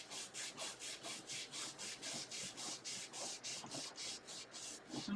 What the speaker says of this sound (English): So I need to scrub.